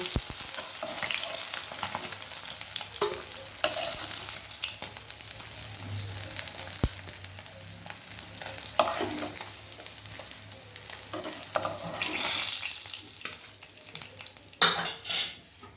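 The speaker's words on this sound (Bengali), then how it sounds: "বাকি মাছটাও এইভাবে ভেজে নেব" Tilapia fish fry in hot oil in a pan, a continuous crackling sizzle broken by occasional clinks and scrapes of a utensil against the pan.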